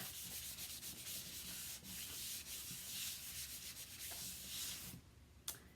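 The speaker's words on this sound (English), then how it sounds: "I'm just going to buff that out a little bit." Wax is buffed off a surface on a Halloween craft project, a soft, continuous rubbing and scuffing close by with small irregular strokes, fading to quieter rubbing near the end.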